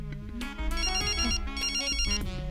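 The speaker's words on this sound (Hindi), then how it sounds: "बीवी का फोन है, नहीं उठाना मुझे।" A mobile phone rings loudly with a bright, melodic electronic ringtone, a repeating tune with a steady pulse, heard close and alone in an indoor scene.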